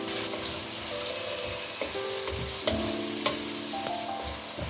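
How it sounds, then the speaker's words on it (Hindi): Sliced onion and green cardamom sizzle steadily in hot oil for a chicken karahi, a continuous close frying hiss with occasional stirring clinks and scrapes, no voices. "प्याज को थोड़ा सा हल्का सा गोल्डन होने तक इसे फ्राई कर लें"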